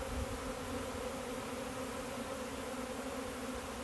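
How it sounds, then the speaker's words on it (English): A honeybee swarm drones steadily around a bucket rubbed with lemongrass oil, a dense continuous buzz of many bees close by with no talking. "But just look how the bees are coming to it."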